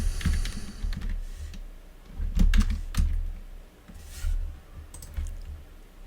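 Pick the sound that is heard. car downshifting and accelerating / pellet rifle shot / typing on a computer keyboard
typing on a computer keyboard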